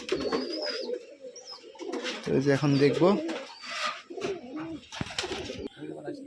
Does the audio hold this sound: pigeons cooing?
yes